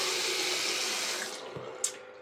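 Water runs steadily from a newly installed faucet, first the cold side then the hot, a close continuous gushing hiss that tapers off near the end with a small clunk as the tap shuts, no voices.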